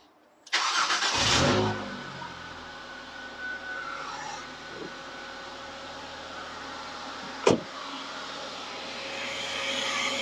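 Ford Mondeo ST220 engine cranking and starting after a drive belt replacement: a loud burst of starter and catch, then a steady idle with a sharp clank partway through.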